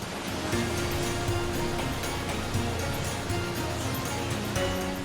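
A tall, scenic waterfall in China roars as a steady, dense rush of falling water, loud and continuous throughout with no voices.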